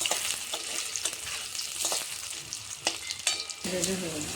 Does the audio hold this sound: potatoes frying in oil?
yes